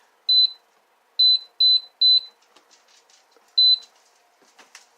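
Air fryer sounding short electronic beeps: a single beep, a quick run of three, then one more after a pause, clear against a quiet kitchen background with faint clatter.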